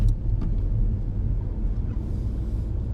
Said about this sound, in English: And second gear for this tight bend.